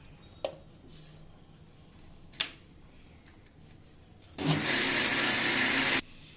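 An electric mixer whirs through maida batter, thinned with a little water, for ghevar. After a couple of faint clicks it runs in one steady, loud burst of about a second and a half, then stops abruptly.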